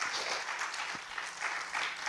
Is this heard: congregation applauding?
yes